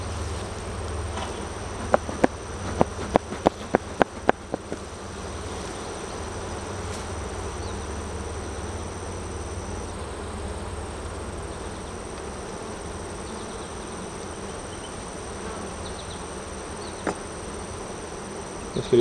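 Honeybees buzz as a steady close drone throughout an open hive inspection, with a burst of sharp clicks and taps from frames or tools early on.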